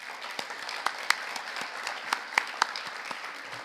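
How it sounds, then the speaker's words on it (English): Faint audience applause for partners and sponsors at a conference on sustainability, soft sustained clapping with a few sharper nearby claps standing out. "we can give our partners and sponsors a big round of applause"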